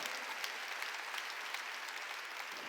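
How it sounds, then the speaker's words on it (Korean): A church congregation claps together in steady, dense applause through a Sunday worship service, a continuous wash of hands without a break, with no talking. "박수로 하나님께."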